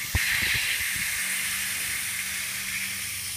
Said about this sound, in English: the air compressor probably isn't aired up near enough